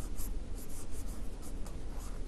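Chalk scratching steadily across a classroom board as a sentence is written during an English grammar lesson, a continuous close rasping with short bright strokes and no talk.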